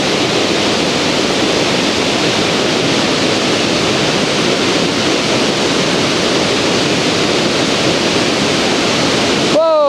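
Loud, steady rush of a waterfall filmed near its base amid the spray, a dense continuous roar filling the whole span, with a brief voice at the very end.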